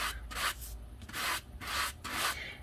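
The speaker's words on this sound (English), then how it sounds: "I was going to go ahead and do some sanding on it to bring out those flowers" A coarse sanding block rubs back and forth over a paper craft in about five even, scratchy strokes, close and quiet, with no talking.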